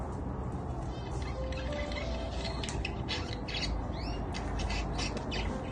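A diamond dove calling: short squawking bird notes and chirps repeat close by over a constant background hiss.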